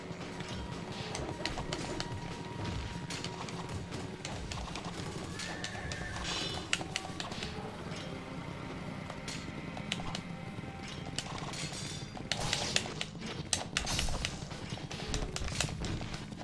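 Horse hooves clip-clop steadily in Ninja Gaiden Black video game, under a busy game soundscape with cooing birds, a brief whinny and scattered clattering, all fairly faint.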